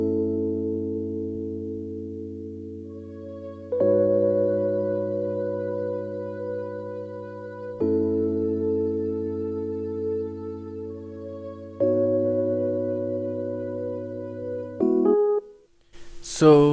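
Xenology choir vox preset layered with electric piano in a 70s soul sample, with sustained warm chords changing about every four seconds and a brief rising sweep at the end.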